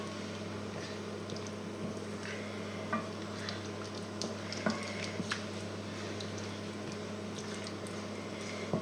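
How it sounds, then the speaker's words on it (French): Chicken curry strips are stirred in a pan, with soft scraping and light clicks of the utensil over a quiet, steady background hum. "Là, on remue."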